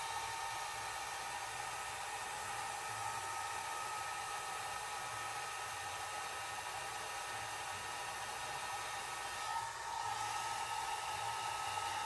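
A hair dryer running continuously to dry alcohol ink, a steady whirring blow with a constant hum and no voices, with one slight change in tone near the end.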